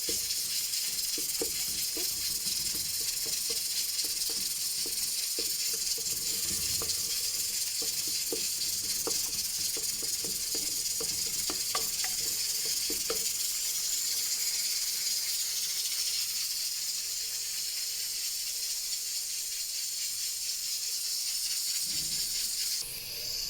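A pressure cooker cooking chana dal lets out a continuous bright steam hiss, steady and fairly quiet, with faint clicks and rattles underneath early on.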